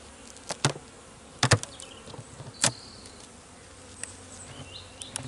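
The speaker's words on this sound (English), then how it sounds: "looking down into the hive. These are really quite active" Honeybees in an opened hive after winter, a large active colony heard as a low background drone with several loud close buzzes as individual bees pass near, scattered over a quiet base.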